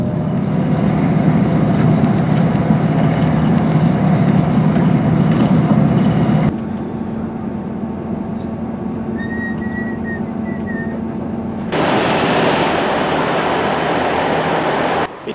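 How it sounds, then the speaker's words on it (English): Northern service train at Hull railway station, a loud droning engine rumble that drops to a quieter hum partway, then swells again with rising noise, heard close from on board with a faint whistle-like tone. "So anyway, this train's about to leave."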